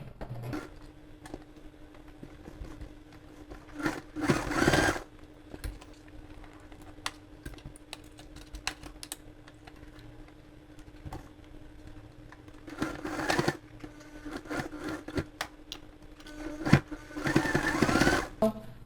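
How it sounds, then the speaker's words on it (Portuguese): A sewing machine topstitches fabric close to the edge for a zipper finish, running in a few short, quiet bursts of rapid stitching separated by pauses over a faint steady hum. "eu fiz a costura dos dois lados, né? Fiz a costura para prender esse tecido"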